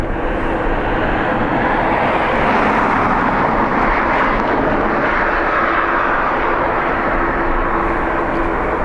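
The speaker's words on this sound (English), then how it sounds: "133 off the DFW, Dallas Fort Worth," A Boeing 787 Dreamliner departing Dublin Airport, its loud, continuous jet roar filling the air and swelling slightly midway, with no voices.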